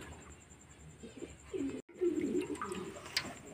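Pet pigeons cooing nearby during the rainy season, soft low throaty coos in short bursts, with a brief silence midway and light chirps and rustling around them.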